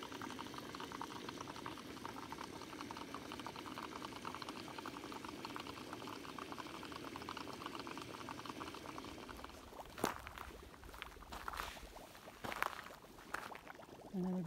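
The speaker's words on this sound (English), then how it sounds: "It's just the gas is effervescing through it, so that's why it's bubbling." Volcanic gas bubbles up through water in a sulphur spring fumarole in the Valles Caldera, New Mexico, producing a continuous soft, fizzy burbling, with a few sharper splashing pops near the end.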